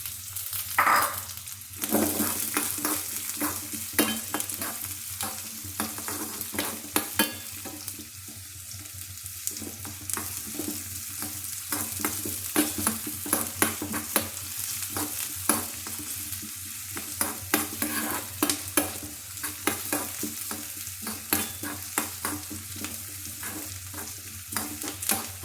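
Chopped ingredients brown in hot oil in a pan for an Ayurvedic Karkidaka kanji, a dense continuous sizzle with frequent spoon scrapes and clatters throughout, close and fairly loud, no voices.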